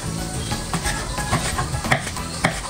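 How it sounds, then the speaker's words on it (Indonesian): Spice paste with candlenut and lime leaves frying in a pan, a steady close sizzle with repeated scraping stirs and clatter throughout, no talk. "lanjut kita goreng dulu bumbunya"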